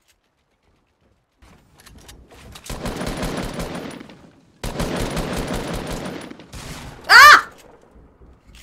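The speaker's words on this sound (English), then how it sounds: "I'm being shot! I'd really like it if you stopped shooting me." Bursts of automatic gunfire in the video game Fortnite, two sustained rattling volleys separated by a brief gap, loud and close, followed by a sharp cry from a player.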